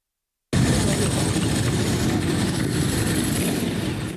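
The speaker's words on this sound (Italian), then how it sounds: "Il rombo delle moto e delle vespe accompagnano l'arrivo sul sagrato della chiesa di Cusignana" Motorcycles and Vespa scooters roar into a churchyard in Cusignana at a funeral, a dense, loud engine rumble that bursts in after a moment of silence and holds steady, several machines blending together.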